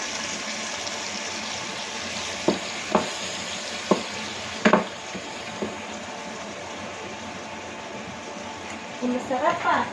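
Bicol Express with coconut milk stirred in a sizzling pan, a steady frying hiss broken by several sharp spoon-on-pan knocks, close by, with a voice briefly near the end.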